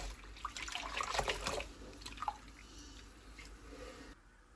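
Water runs steadily from a tap while rinse water for freshly spun yarn is changed, a soft continuous splash with a few drips, fairly close and quiet, ending abruptly.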